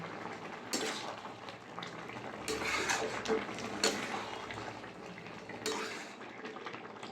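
A spoon stirs ghee into Bengali dudh shukto in a pot, giving close scraping and clinking against the metal with soft sizzling and simmering underneath, in a few brighter bursts over a steady cooking hiss.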